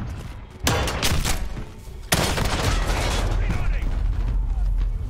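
Gunfire in the video game Modern Warfare, loud rapid bursts of automatic shots that kick in abruptly, pause briefly, then resume in a sustained close-range volley with heavy low thumps.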